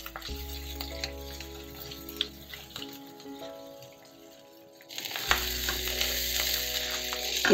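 Chopped garlic, green chili and grated ginger sizzle in a pan for a vegetarian gobi keema, a steady close crackle under a faint background hum that grows louder and brighter toward the end.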